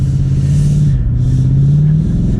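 A 2023 BMW M8 Competition Convertible engine rumbles with a deep, loud, steady drone as it accelerates, heard from inside the car with no talk.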